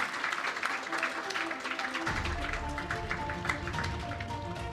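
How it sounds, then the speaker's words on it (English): A conference audience at a talent summit panel applauds in a continuous, moderately quiet patter, with a steady tonal hum or music running beneath the clapping throughout. "Round of applause should we keep on going like our esteemed chairman is saying."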